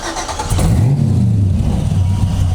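An LS V8 engine fitted with a Holley 650 double pumper carburetor fires and revs loudly up close, its deep, rumbling exhaust note rising and holding steady.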